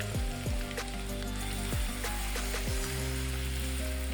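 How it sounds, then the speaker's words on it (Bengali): Onions fry in leftover oil in a pan while vegetable biryani is cooked, a steady bright sizzle with a low electronic hum and tone sweeps underneath. "পেঁয়াজটা একটু ভাজা হোক।"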